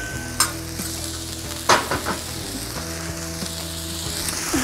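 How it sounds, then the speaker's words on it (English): Onions sizzle on a Cuisinart 360 griddle during a smash burger cook, a steady close frying hiss with a few sharp scrapes and clicks of a spatula over low hum. "Onions are looking good. Yeah. And I'm just gonna let those simmer a little bit."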